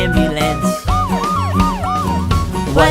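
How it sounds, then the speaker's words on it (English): An ambulance siren wails in a children's vehicle-sounds song, its rising and falling tone sweeping repeatedly over steady music and percussion, loud and close throughout. "I see an ambulance."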